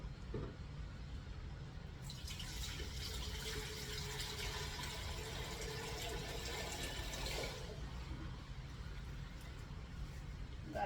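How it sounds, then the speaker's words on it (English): Whey from homemade ricotta pours back into a pot in a steady, faint liquid stream lasting several seconds, then stops, leaving quiet room tone. "I want to get the whey back in that pot"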